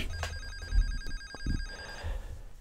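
In the Facade video game, a telephone rings with a few short electronic trills over a low room rumble, fairly close and moderately loud, with scattered thumps and clicks in between.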